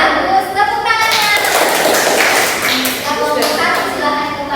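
Classroom students clapping for a presenting group during a micro-teaching lesson, a short burst of hand claps swelling in the middle under a teacher's and children's voices.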